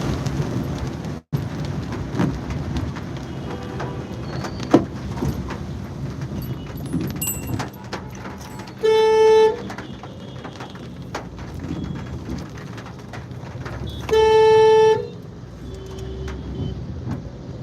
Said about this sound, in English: I am driving my car to office